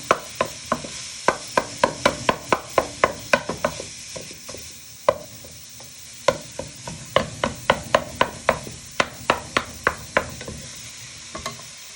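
Mince in a pan being bashed with a wooden spoon: repeated sharp knocks in quick irregular bursts over a low sizzle, close and loud, with a short lull midway.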